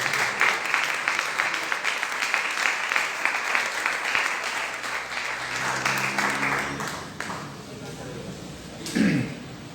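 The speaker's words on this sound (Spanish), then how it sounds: "Un aplauso fuerte a nuestro Dios" A church congregation gives a loud round of applause to God during a pastor's service. Thick, rapid clapping fills the first several seconds, then thins out and fades as a voice takes over near the end.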